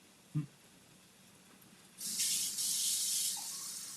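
Tap water runs into a sink in a home kitchen while chickpeas are being cooked, a soft steady hissing stream starting after a brief knock and continuing to the end, fairly faint and with no talk over it.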